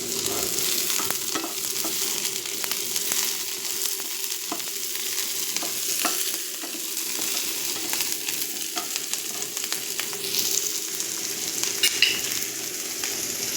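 Capsicum, chopped in half, stirred and fried in a pan for chicken thuvaran, giving a steady continuous sizzle with scraping stirring strokes throughout, close and fairly loud, with no talking.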